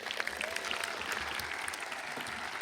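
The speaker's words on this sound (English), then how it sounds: "Let's give them a great round of applause." Sustained applause from a large crowd at the Las Lomas graduation ceremony, a dense, even wash of clapping heard from a distance with no break across the whole stretch.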